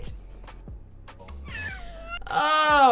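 A cat meows clearly and close by, a rising drawn-out cry that builds louder toward the end, over faint background thumps and clicks.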